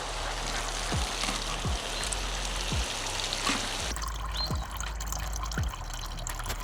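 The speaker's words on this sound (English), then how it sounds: "And then we're gonna add some water to that. Lots of water your first time." Water poured generously into a homemade wormery, a steady broadband wash of pouring and trickling liquid with soft drips, continuous and fairly close throughout.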